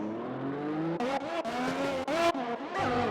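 Race car in a racing video game at the Australian GP skidding off the track after contact involving a Ferrari, engine droning with pitch shifts and bursts of tire squeal, loud and continuous.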